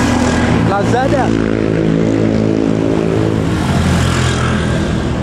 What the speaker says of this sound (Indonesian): Ya, ini ada truk.